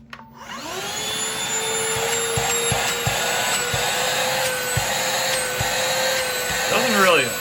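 A Shark UltraCyclone Pet Pro Plus CH951 cordless handheld vacuum on its single power mode with the crevice tool fitted, whining steadily and loud after a quick spin-up, with a few light knocks before it winds down at the end.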